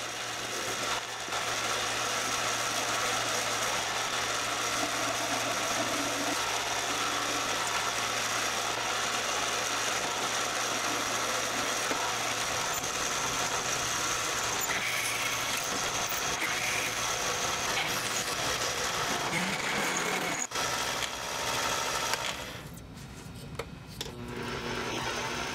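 A mini metal lathe boring a 5/8 inch hole in a heavy steel spool holder, a steady mechanical whir and hum with gritty cutting noise, a shift around two-thirds through and clunks near the end.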